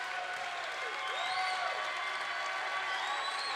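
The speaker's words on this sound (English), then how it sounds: "Lutheran fans up clapping for their team." Basketball fans in a gym clap steadily in a continuous wash of applause near the end of a conference game, with crowd noise and faint whistles mixed in.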